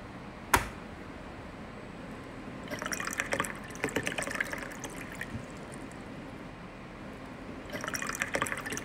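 Water pours into a container in two short bursts, a splashing fill with a few drips between, close by and fairly quiet, with a sharp click near the start.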